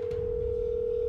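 A steady telephone dial tone holds at one even pitch throughout, loud and continuous, with a low background rumble beneath it.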